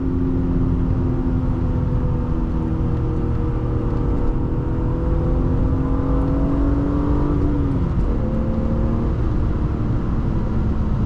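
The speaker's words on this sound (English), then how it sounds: "You gotta love how smooth BMW inline-six engines are." A smooth BMW inline-six engine in a 1999 BMW M3 (E36) revs up steadily, its tone climbing over several seconds before dropping back, loud and close with no talking.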